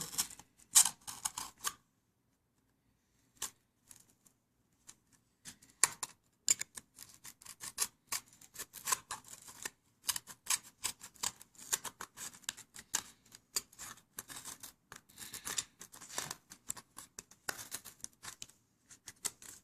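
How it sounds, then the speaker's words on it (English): Scissors trimming the edge of a paper cup for a homemade cardboard VR viewer, giving a long run of quiet, close snips and crisp paper rustles, briefly pausing near the start. "I'm going to trim this edge here"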